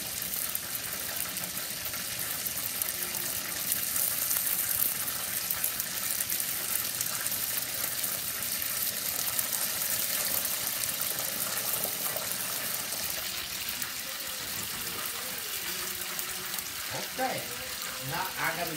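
Fish fries in a pan for fish and chips, a steady, loud broadband sizzle that runs unbroken throughout, with a few clinks and stirring sounds near the end.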